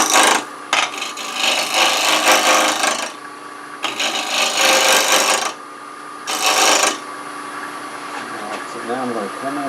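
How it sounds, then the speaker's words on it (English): A small 3/8-inch bowl gouge cuts a tenon on a cherry burl vase blank spinning on a lathe, giving loud rasping scrapes in three long bursts with short pauses between them and a steady machine hum underneath. "now I'm going to reposition and make this tenon. Use this little small bowl gouge"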